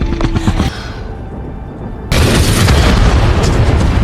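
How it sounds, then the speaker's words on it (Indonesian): A helicopter explodes with a sudden loud blast partway through, giving way to a heavy, sustained roaring rumble that fills everything. "Sementara itu Joker meledak bersama helikopter tersebut"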